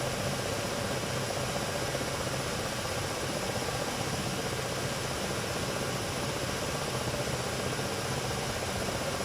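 Steady loud engine roar of an aircraft taking off in the DCS flight simulator game, a continuous broadband drone with no breaks, filling the whole stretch.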